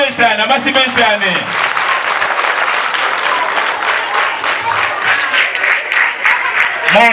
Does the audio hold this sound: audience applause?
yes